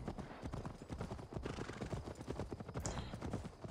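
Hooves clip-clop steadily as a horse is ridden at a brisk pace in Assassin's Creed Valhalla, a dense, rhythmic pattern of close footfalls with a faint whinny-like sound partway through and no talking.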